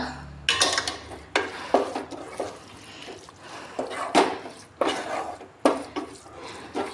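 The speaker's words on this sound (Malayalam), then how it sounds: "മല്ലിപ്പൊടി ചേർത്ത് കൊടുത്തിട്ട് നന്നായിട്ടൊന്ന് ഇളക്കി കൊടുക്കുക" Spoon stirring coriander powder into pepper chicken in a pan, a run of close, soft scraping strokes in an uneven rhythm, with no voice.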